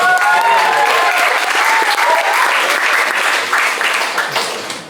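A stand-up comedy audience at a fall comedy show applauds comedian Zach, a dense, loud wave of clapping that starts at full strength and slowly tapers off.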